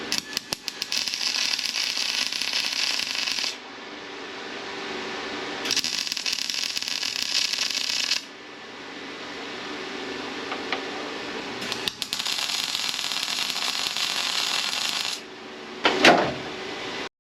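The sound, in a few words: welding tacks on headlight bracket of Mazda FC RX7 front end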